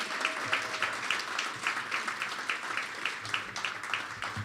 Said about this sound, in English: let's give a big round of applause to David Hall again